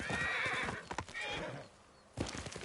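A horse in Ghost of Tsushima lets out a loud, close whinny, followed by heavy hoof thuds and a landing, with no talking.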